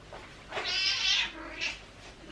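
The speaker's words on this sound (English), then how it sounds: "I've got a cat that's crying again." A pet cat meows and cries indoors, two drawn-out mewing calls close to the listener, the first long and strained and the second shorter, with no talking.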